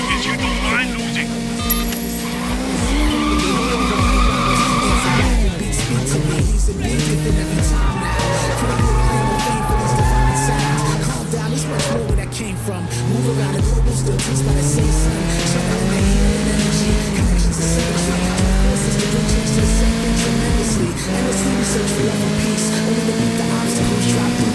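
Street race cars in the Sleeping Dogs video game, loud engines revving and shifting with rising and falling pitch, tires squealing in bursts, while voices talk over the racing.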